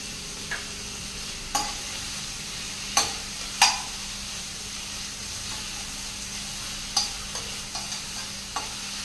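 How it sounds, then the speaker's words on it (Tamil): Tomatoes sauté with a little salt in a hot pan, a steady close sizzle with occasional scraping clicks of a spoon stirring. "தக்காளி வதங்கட்டும்"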